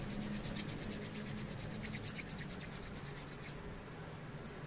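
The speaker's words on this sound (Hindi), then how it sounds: "हम हथेली को रब कर लेंगे" Oiled palms rub briskly together to warm them, a close, steady rhythmic swishing friction that slows and softens near the end.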